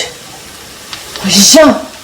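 Liver frying and being stirred in a pan, with a short burst of sizzling and scraping near the end after a quiet start.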